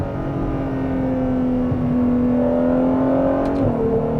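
A Ferrari accelerating hard through its gears, the engine pitch climbing in a strong continuous drone and then dropping sharply at a quick upshift, loud and close from inside the cabin.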